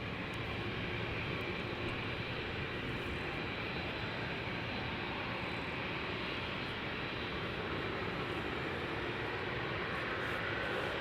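Parked Boeing 787-8 Dreamliner at Amsterdam Schiphol with its auxiliary power unit running, a steady droning whine and hum that holds constant throughout, moderately distant, with no talking.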